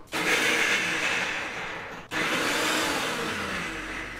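About 100 grams of peeled garlic being chopped, heard as two loud, close, continuous whirring bursts separated by a brief pause, with no talk.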